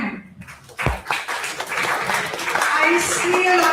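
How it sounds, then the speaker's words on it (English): Applause breaks out from a seated audience at a physiotherapy conference, a dense patter of clapping with voices calling over it and rising toward the end. "A round of applause for him."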